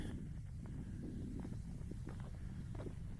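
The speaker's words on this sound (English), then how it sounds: "It's a nice, beautiful, windy day." Wind buffets the microphone on a lake shore hiking trail in a state park, a steady low rumble with scattered soft knocks and rustles throughout and no talking.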